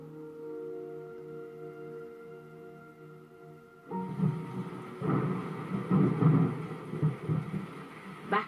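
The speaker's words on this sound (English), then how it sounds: "where we were hit by a sudden downpour" A sudden tropical downpour on Dominica after Hurricane Maria bursts in partway through, a heavy rush of rain with rumbling thunder after a quieter opening of steady tones, moderately loud with no speech.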